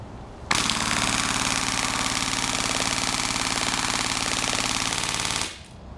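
Polarstar airsoft gun firing a rapid barrage, one sustained burst of fast, evenly spaced shots lasting about five seconds, loud and close, starting and stopping abruptly.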